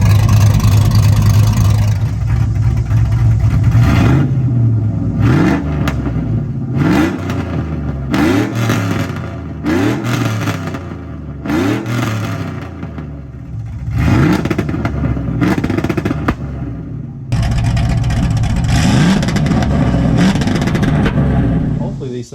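A cammed V8 fitted with ricer mufflers revs repeatedly in loud, close bursts with a hollow, droning tone, rising and falling between blips, with someone speaking over parts of it.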